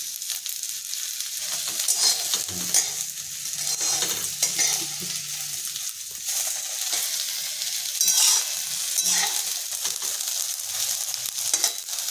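Lentils dry-roasting in a pan for a rustic okra dish, a steady loud rattling sizzle with continuous scraping stirs running throughout, close and without talk.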